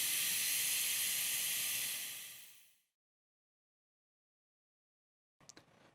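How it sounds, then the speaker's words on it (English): Compressed air hisses steadily out of a valve positioner on a fail-freeze control valve as the pressure is bled off, loud and close, fading over about three seconds into silence, with a brief faint rattle near the end. "When the air pressure drops slowly like this, note that the valve will move slowly towards the closed direction."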